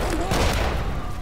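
A bomb exploding in the game BADLAND, a loud, close burst of rumbling booms and crackling blasts that fades slightly over about a second, with voices talking underneath.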